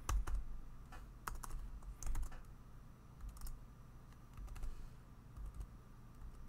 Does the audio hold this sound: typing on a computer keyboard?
yes